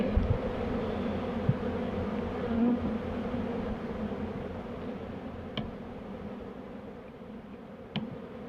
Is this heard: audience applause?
no